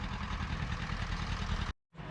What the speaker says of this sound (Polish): Jeździ ciągnik.